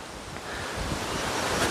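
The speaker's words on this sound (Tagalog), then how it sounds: "Napakalakas ng hangin." Strong wind on Mt. Makiling near Sto. Tomas, Batangas roars steadily into the microphone, a loud broadband rush that builds slightly, with a wave-like surf quality underneath.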